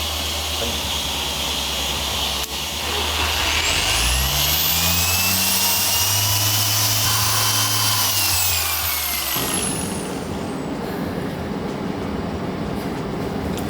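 Rotary car polisher doing the first-stage cut on the paint of a five-year-old car, a loud steady grinding whir whose pitch rises and falls as the machine spins up and bears down, then settles.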